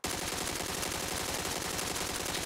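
Sustained automatic AUG rifle fire in a first-person shooter game, a dense, unbroken stream of rapid shots lasting the whole stretch, loud and close with no pauses.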